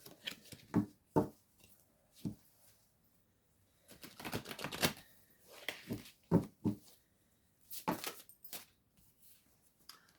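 Chakra oracle cards are shuffled by hand in a quiet room, giving a series of soft, brief riffling and slapping bursts with pauses in between.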